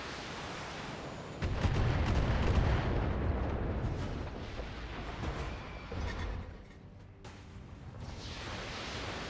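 Missile volleys fired from a mech in BattleTech: a sudden loud booming burst followed by a long rumbling, crackling roar that fades, with another sharp hit near the end.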